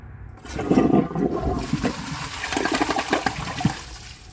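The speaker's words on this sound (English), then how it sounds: "The flush is a lot better than I would have thought." Glacier Bay HET high-efficiency toilet with its flapper set too high, flushing in one strong rushing surge of water that gurgles and drains away over a few seconds, close and loud.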